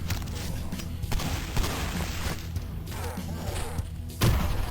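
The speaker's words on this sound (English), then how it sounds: "You need a big fiery explosion." Rumbling blasts and thuds fill the Cultic shooter as dynamite and fiery explosions go off, with a sustained noisy roar and a stronger boom near the end.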